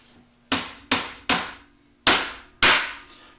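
Five sharp hammer blows tapping a walnut inlay into a wooden box, evenly spaced with brief ringing decays, close and loud with quiet between strikes.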